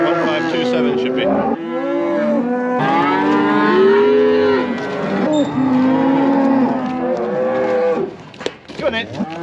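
Several cattle moo in long, drawn-out calls one after another as the first cows head out on a farm, loud and close, with scuffling and handling noise near the end.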